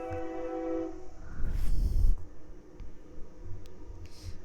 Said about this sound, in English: Excuse the train noise in the background if you can hear that.